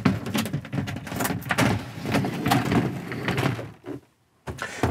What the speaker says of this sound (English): You've got this rotating shower door, which just completes with this little flap that attaches magnetically.